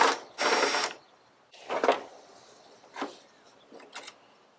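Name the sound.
screws being removed from Jeep Cherokee XJ headlight trim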